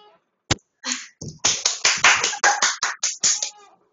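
Scattered group applause in an online physics class, a few sharp individual claps followed by a short burst of uneven clapping that ends after a few seconds.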